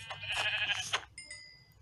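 A Minecraft sheep gives one short, nasal bleat up close, followed by a brief, thin ringing tone as it fades out.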